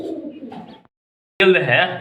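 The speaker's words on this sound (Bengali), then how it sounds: "স্ট্রবেরি কবুতর দেখেন" Strawberry pigeons at a sale coo close by in two short bursts separated by a brief silence.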